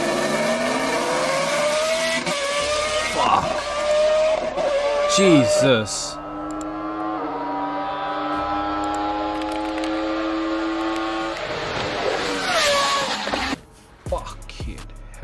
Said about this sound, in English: That was literally a Formula One car, bro.